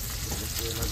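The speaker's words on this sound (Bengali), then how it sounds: "আর একটু ভাজতে হবে।" Pangas fish pieces fry in hot oil with a close, steady crackling sizzle and stirring, a short dense burst with no speech.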